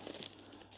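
Paper cone wrapping around a new houseplant crinkles and crunches briefly up close, a soft continuous rustle as it is pulled open.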